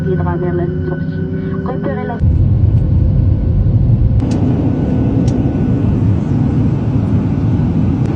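An airplane at Casablanca Mohammed V airport produces a steady, loud engine roar that suddenly swells into a broad rumbling wash partway through, with voices heard over the noise.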